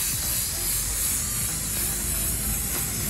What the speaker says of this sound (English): I'm gonna just spray this again from quite far away.